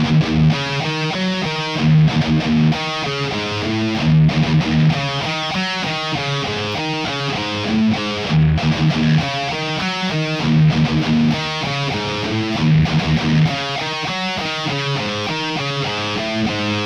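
An electric guitar plays a 7/4 riff slowly through a dense, loud distorted tone. The palm-muted notes pulse in a steady repeating pattern with no talk over them.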